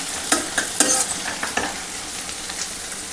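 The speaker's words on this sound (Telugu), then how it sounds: "ఇప్పుడు ఇందులో మనం టమాటా వేసుకుందాం." Sliced tomato going into a pan of softened frying onions for a mango curry, with scattered stirring scrapes and soft sizzling throughout, close and fairly quiet, no talk.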